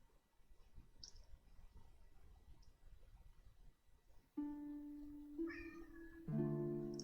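A cat meows several times, drawn-out whiny calls that grow louder and more insistent toward the end. They come close over a quiet room and overlap faint background sounds from a game.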